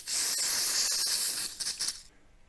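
A squirt from a spray can during reassembly of the lower unit on a 1973 Evinrude 18hp outboard, one close hissing burst of about two seconds with faint clicks, then quiet.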